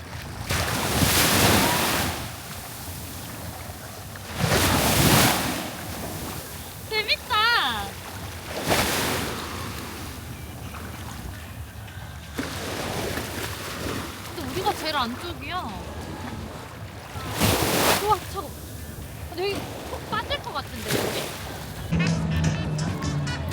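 Ocean waves and wind at Haeundae and Gwangalli beaches in Busan, with repeated loud surges of surf and heavy wind buffeting the microphone, while people talk and exclaim between the gusts.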